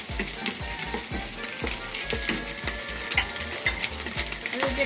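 Garlic frying in a wok for a ginger stir fry, with a constant bright sizzle and rhythmic scraping strokes of a spatula repeating roughly twice a second, close and without talking.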